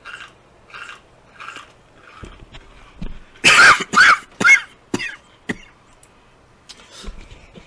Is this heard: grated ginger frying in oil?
no